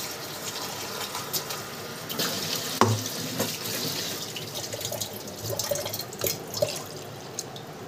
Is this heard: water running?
yes